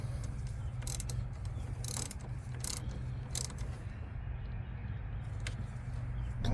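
A hand ratchet clicks steadily while tightening the negative battery terminal on a Nissan Altima 2.5L, a close, fast run of small metallic ticks over a low background hum, no voices.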